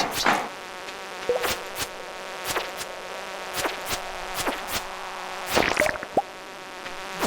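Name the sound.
buzzing bugs in Stardew Valley video game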